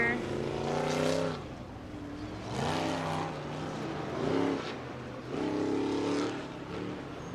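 Ultra 4 off-road race cars at Visions Off-Road 2022 qualifying roar past on the green flag. Engines swell and fade in repeated passes under steady loud crowd and track noise.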